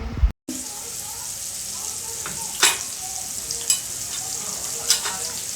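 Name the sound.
tomatoes frying with salt in a pan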